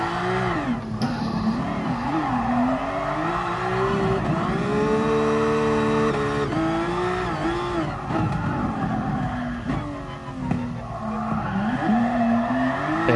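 A race car engine in a video game (GT Sport, Nordschleife drift challenge) revs loudly with shifting pitch while tires squeal and skid repeatedly, a continuous close, loud mix.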